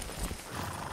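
Hoofbeats clopping steadily alongside a horse's whinny in the video game Far Cry 6, close and fairly loud, with no talking.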